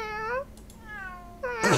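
A cat in the video game Weird Park gives three drawn-out tonal meows, each a clear rising-then-falling cry separated by short pauses, fairly quiet, with a sharp noisy burst at the very end.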